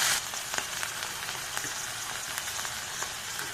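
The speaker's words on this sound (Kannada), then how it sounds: "ನೋಡಿ, ಎಲ್ಲ ಒಂದ್ಸಲ ಫ್ರೈ ಮಾಡೋಣ." Greens and mint leaves frying in oil for vegetable pulao, a fairly quiet steady crackling sizzle with scattered sharper pops, close, no speech.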